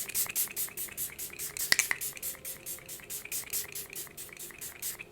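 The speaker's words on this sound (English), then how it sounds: "Do another layer of spray." Makeup setting spray misted onto a face in repeated quick bursts, a steady rhythm of soft hissing pumps close to the mic, with no talking.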